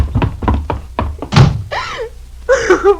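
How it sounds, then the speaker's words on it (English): A door in an old-time Philip Marlowe radio drama takes a rapid series of heavy, close thuds ending in a harder bang, followed by a raised voice. "Helen, unlock this door"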